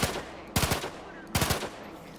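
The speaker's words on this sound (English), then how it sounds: "it's a burst fire" Burst-fire pistol in The Outer Worlds 2 firing two quick bursts of three sharp, loud shots each, about a second apart, with short echoing tails between.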